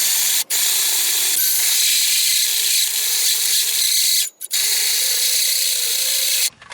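A drill bit bores a pilot hole under steady pressure with plenty of cutting oil, a loud continuous grinding whir broken by three brief pauses.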